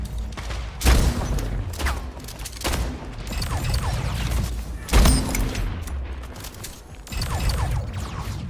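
Gunfire in the video game Splitgate: dense rapid bursts of shots with heavy booming impacts, loud and continuous, with strong blasts standing out at moments and no clear talk over the firing.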